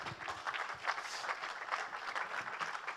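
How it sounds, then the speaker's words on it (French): Audience applause welcoming Sarah Toumi to a round-table debate, a soft, steady patter of clapping from a crowd, fairly distant and brief. "d'accueillir sous vos applaudissements Madame Sarah Toumi"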